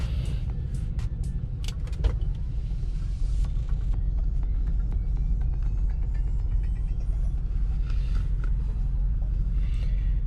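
A BMW 550 engine with a cylinder misfire runs in gear, giving a steady, loud, close rumble that continues throughout with faint higher rattles on top and no talk.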